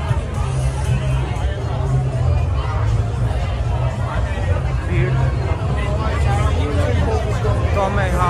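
Dense crowd babble from people queuing outside the Dog and Duck nightclub in Adelaide at night, a steady loud hubbub of many overlapping voices with a low rumble underneath.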